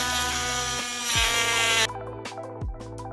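Handheld power tool cutting through deer hooves: a loud, close, high whine that drops in pitch as it bites and then trails off into a few short, lower revs.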